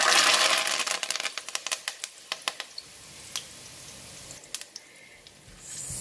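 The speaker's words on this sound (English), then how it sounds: "So we'll just quickly fry curry leaf." Curry leaves fry in hot oil, with a burst of sharp crackles and pops near the start that taper into scattered spits over a quieter, steady sizzle.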